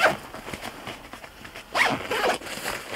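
Zipper on a compartment of a 5.11 Rush backpack, pulled in several quick close strokes with a longer, louder zip in the second half.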